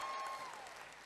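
An audience at an entrepreneurship and digital marketing training event applauds in a brief, faint burst of clapping.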